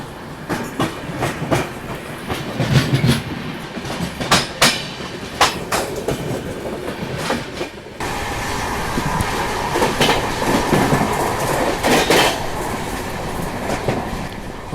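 A train passing on a railway near Valsad station in India, loud rhythmic clickety-clack of wheels over rail joints with bursts of squeal, the rumble shifting to a denser steady roar as the cars rush by close.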